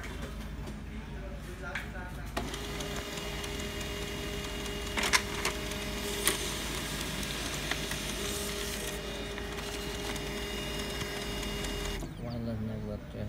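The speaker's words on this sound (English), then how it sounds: "You can print report from the printer or from the computer." An HP LaserJet M15w laser printer running off a wireless network test report, a steady mechanical whir and rattle with brief clicks, continuing for about twelve seconds before stopping, while a person speaks over it.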